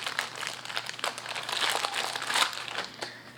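Product packaging for a Toyota FJ Cruiser pedal control switch install being opened, with loud close crinkling and crumpling of plastic and paper as a small card is pulled out; nobody speaks.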